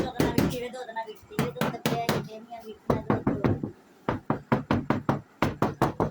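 Knuckles rap on a storage box in a home, giving a series of sharp, close knocks in quick bursts with short pauses between groups.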